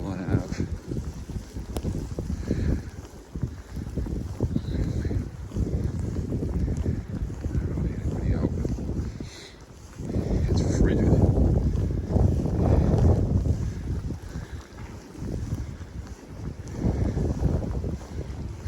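Blizzard wind roars and gusts outdoors in Cranston, Rhode Island, a loud rumbling rush with heavy microphone buffeting that swells and eases throughout, while someone walks down a street.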